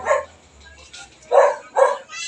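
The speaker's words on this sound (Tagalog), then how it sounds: "baka pumasok may aso doon" A dog barks three times nearby, one sharp bark followed after a pause by two quick barks in succession, with quiet between them.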